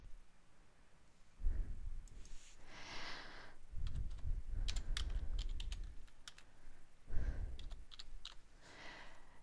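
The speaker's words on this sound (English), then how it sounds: "you can type it into the Find by Citation box at the top of the screen" Typing on a computer keyboard, bursts of soft rapid keystrokes separated by short pauses, close and fairly quiet, with a few heavier thumps among the keys.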